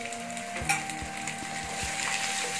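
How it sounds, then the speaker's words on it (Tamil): Ginger-garlic paste sautés in a pan for a vegetable prawn biryani, with a dense, loud sizzle and a few dull spatula knocks against the pan at regular intervals, heard up close and without talking. "இப்ப இஞ்சி பூண்டோட பச்சை வாசனை எல்லாம் போற அளவுக்கு நல்லா வதக்கி விடுங்க"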